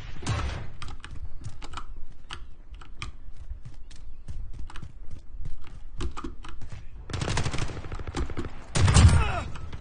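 Rapid shotgun blasts in Call of Duty, a scatter of sharp close shots at irregular intervals with a denser burst of fire near the end and a heavy boom at the finish.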